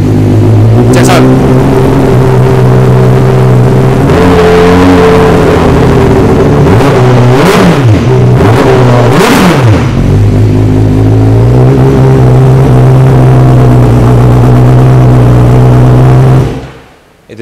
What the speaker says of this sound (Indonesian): Itu dia bunyi CBR 1000RRR dengan knalpot aero full system, bukan straight pipe tapi full system.